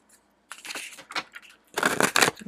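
Tarot cards are shuffled in a few short, papery bursts of riffling and sliding, close and fairly crisp, with brief pauses between them and no talking.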